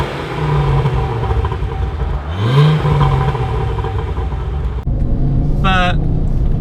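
A 2007 Ford Focus ST500 with a Mountune remap, its exhaust rumbling near the microphone as the engine revs once, climbing in pitch then falling back to a steady idle; a short voice-like squeal surfaces near the end.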